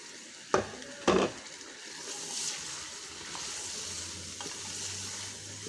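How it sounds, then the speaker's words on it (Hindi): A few sharp metallic scrapes of stirring chicken masala in a pressure cooker pot, then a steady soft sizzle of frying continues underneath, close and fairly quiet. "और इसे 2 से 3 मिनट अच्छी तरह भून लेंगे।"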